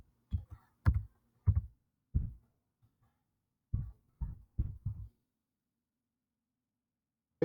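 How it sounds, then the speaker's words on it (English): Several quiet, separate keystrokes on a laptop keyboard at home, typed in a short burst and then a second burst after a pause, with no one talking. "I'm just typing in my two-factor key now."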